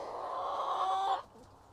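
Hens clucking and calling close by in a steady, vocal burst that stops abruptly, leaving quiet.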